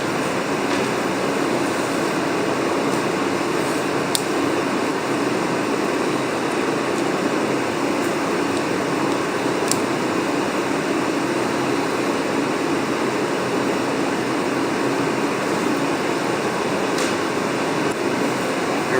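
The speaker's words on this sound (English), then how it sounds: "We have a little bullet heater on here in the garage" A small bullet heater runs in a garage, giving a continuous loud broadband roar that stays steady and unchanging, with no talk over it.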